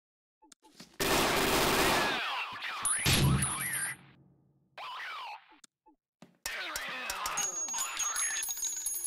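Gunfire in the tactical shooter Door Kickers comes in loud rapid bursts with short gaps between them, followed by further clattering game effects.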